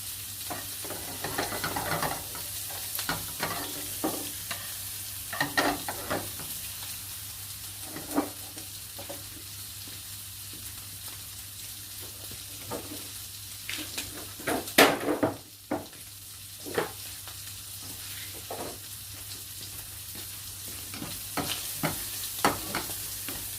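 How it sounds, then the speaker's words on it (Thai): Garlic stir-fried with shrimp in a pan for shrimp fried rice, a steady sizzle running throughout with repeated scraping strokes of the spatula against the pan, clearer and louder around the middle. "กระเทียมคลุกเคล้า กระเทียม ให้เข้ากับเครื่องนะคะ ผัดให้สุก ให้หอมนะคะนี่"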